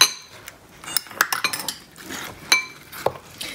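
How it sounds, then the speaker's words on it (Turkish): A spoon stirs milk and honey in a bowl, giving repeated light clinks and scrapes of metal against the dish in an uneven rhythm, close and fairly clear, with no talking. "Süt de koyduktan sonra çok az bir karıştırıyorum."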